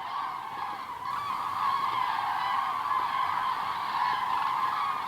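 Large flock of cranes calling on a lagoon, a dense continuous chorus of overlapping honking calls holding steady and fairly loud throughout, with no voices.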